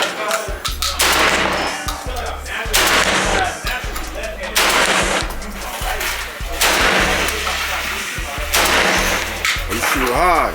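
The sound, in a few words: gunshots fired at a shooting range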